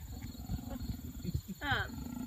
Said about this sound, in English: They can either purr or they can roar.